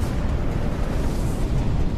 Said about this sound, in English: these rivers of ice are flowing faster and crashing even more spectacularly into the sea